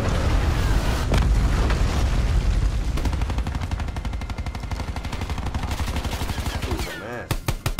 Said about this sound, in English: And then you want to shoot all these suckers.